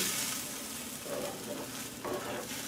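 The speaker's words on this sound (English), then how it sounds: "Let them set up for a little while, and then I just constantly stir them around here." Eggs sizzle steadily on a hot cast iron griddle while being stirred, a close, even frying hiss with soft scraping movements and no talking.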